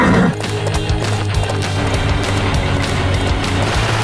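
Cartoon pony hooves clip-clop rapidly in a Paw Patrol episode, a fast, steady patter of hoofbeats over a loud, constant low hum.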